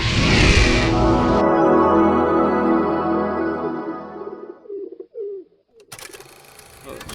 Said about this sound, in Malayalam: അഫുവിൻ്റെ പ്രാവുണ്ട്, നമ്മളെ പ്രാവുണ്ട്